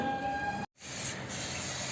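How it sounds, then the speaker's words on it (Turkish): Brake cleaner spray hisses onto Mercedes W203 transmission parts during a transmission oil change, a close continuous aerosol hiss broken by one brief pause before resuming. "balata spreyi ile temizleme işlemini yapıyor"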